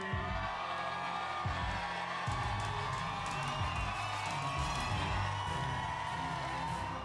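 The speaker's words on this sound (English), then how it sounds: "the crowd reaction is humongous. It's really loud and it's overwhelming." Loud crowd at a beard and moustache competition cheering, whooping and shouting continuously, a dense wall of voices that swells and holds throughout, with scattered yells on top.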